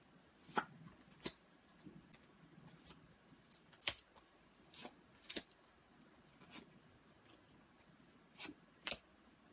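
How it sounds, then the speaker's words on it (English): Tarot cards pulled one at a time from a deck, giving sparse, quiet, crisp snaps and soft slides at irregular intervals with no talking. "bear with me while I'm pulling the cards"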